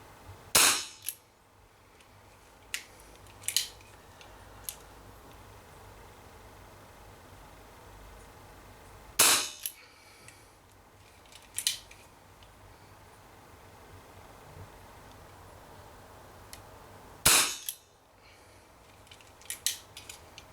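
Three sharp BB revolver shots from a Borner 733, widely spaced several seconds apart, each a crisp snapping crack with a short mechanical clicks and handling noises between them in a quiet room.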